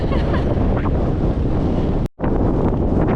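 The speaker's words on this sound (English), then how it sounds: "Little breezy out." Strong wind roars steadily across an open New Mexico badlands wilderness, buffeting the microphone with loud, unbroken rumbling gusts that drop out briefly once.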